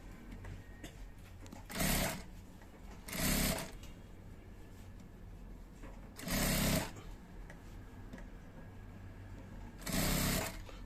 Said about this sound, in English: So we now sew, we're sewing just a 1/4 inch.